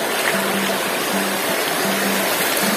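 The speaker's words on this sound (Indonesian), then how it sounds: "Ini sungai-sungainya." A river flows out of a cave through a forest, a steady close rush of water that fills the whole moment with an even wash, while a faint low hum pulses underneath at intervals.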